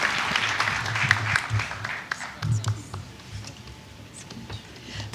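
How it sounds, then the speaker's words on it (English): Applause from a conference audience at an annual industry conclave, a broad wash of clapping in the first couple of seconds that thins out into scattered claps and room noise. "Can we have a thunderous round of applause once again for Shri Tuhin Pandey."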